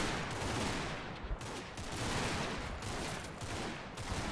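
Dense, continuous machine gun fire and scattered gunshots from the Company of Heroes video game, a steady loud battle din with a few sharper bursts throughout.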